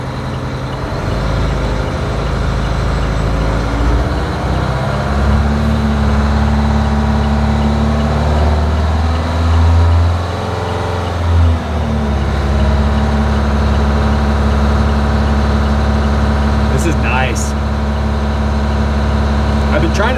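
Old military truck engine idling and running with a steady low diesel rumble throughout, pitch shifting slightly midway as air pressure builds, with brief higher squeals near the end and people talking over it.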